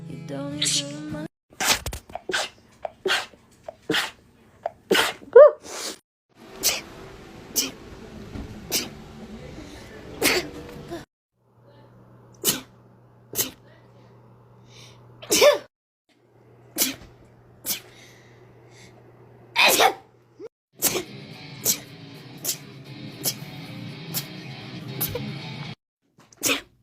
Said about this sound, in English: I sneeze a lot of times. I have really bad allergies.